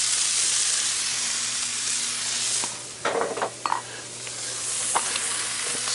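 Sausage sizzles on a new Blacklock cast iron griddle, a steady bright frying hiss that runs the whole time, with a few louder crackles and pops near the middle.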